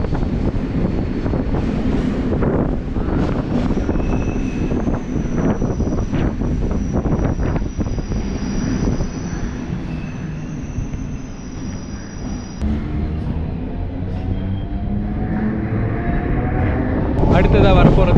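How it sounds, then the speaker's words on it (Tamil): A suburban train pulls into Thiruvallikeni railway station on the Velachery to Park line, a steady low rumble of wheels and carriage noise with a whine overhead and some wind buffeting throughout. "அடுத்ததாக ட்ரெயின் உள்ளே என்ட்ராகிறது திருவல்லிக்கேணி ரயில்வே ஸ்டேஷன்."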